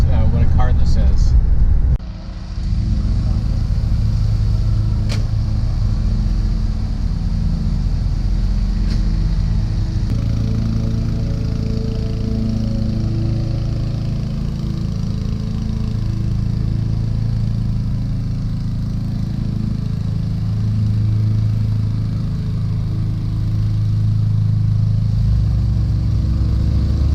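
A Bricklin sports car rumbles steadily from inside the cabin while driving, a low continuous engine and road drone with people talking over it throughout.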